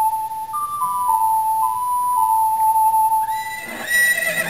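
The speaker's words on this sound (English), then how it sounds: "Alright, so call Epona again." Epona the horse in Zelda: Ocarina of Time neighs as a loud, drawn-out whinny, followed by game music and effects, with no talking.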